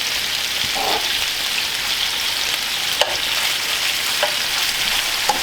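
Beef sizzles steadily in a hot pan while cooking for beef stroganoff. An even, close frying hiss runs throughout with a few small pops and spatters, and no talking.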